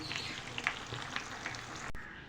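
Chicken potato donuts frying in oil in a kadhai over high heat, giving a steady close sizzle and crackle with small pops scattered throughout, and no one speaking.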